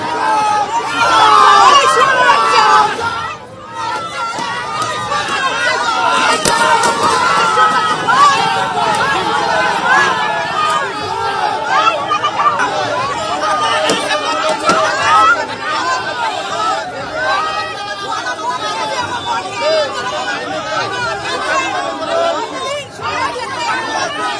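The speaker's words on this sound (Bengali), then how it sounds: "থানা থেকে আদালতে নিয়ে যাওয়ার সময় উঠল চোর স্লোগান, উড়ে এলো ডিম।" A street crowd outside a police station chants and shouts at a former councillor as he is led away, a dense, loud, continuous roar of overlapping voices and babble that never lets up.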